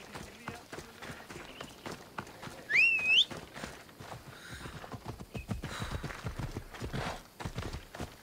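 Rhythmic horse hoofbeats clip-clop along under a busy Assassin's Creed Odyssey game soundscape, with a sharp whistle partway through and background voices.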